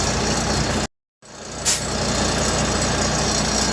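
A truck engine roars to life and runs steadily and loudly at close range, with a brief cutout near the start before the rough, broadband running noise returns and holds.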